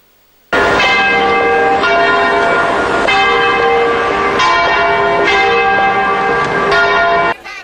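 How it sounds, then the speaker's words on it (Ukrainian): Church bells ring out to call schoolchildren to the first day of school on September 1 in Lviv, a loud, continuous peal of overlapping chimes that starts abruptly and carries on steadily for about seven seconds with no talk. "Ось так церковні дзвони, а не традиційний дзвоник скликають школярів на 1 вересня."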